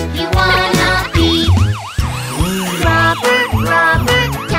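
Wailing police car siren sweeping up and down in a children's nursery song about community helpers, the loud cartoonish siren riding over bouncy music and drums.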